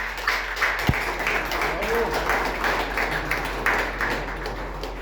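An audience applauds at a book presentation, moderate clapping that runs under a speaking voice, with a steady low hum underneath.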